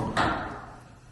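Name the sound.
door being shut on a windy day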